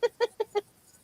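Chickens give four short, evenly spaced clucks, close and clear, then fall quiet.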